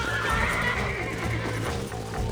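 A horse neighs loudly and close in the Western video game Red Dead Redemption, its whinny stretching over a couple of seconds amid low rumbling game ambience.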